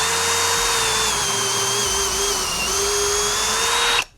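A power drill fitted with a brad point bit bores into wood, a loud, steady high whine that holds for about four seconds before cutting off abruptly.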